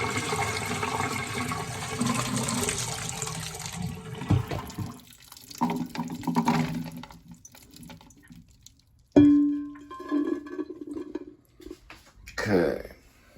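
Simmered black-eyed peas and their liquid are poured out in a loud, gushing splash that slows to a trickle and then stops. Several more short pours and splashes follow.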